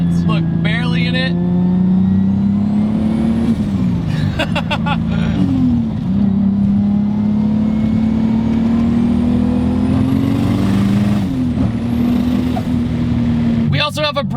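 A 500HP 1JZ-swapped BMW E30 wagon with full exhaust and an Apexi muffler drones loudly and steadily, its engine note rising and falling through long pulls, with brief bursts of other noise between.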